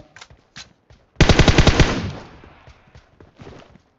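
Shotgun fire in the PUBG Mobile battle royale game: one loud blast with a rattling burst and a long decaying tail, framed by fainter, scattered shots before and after.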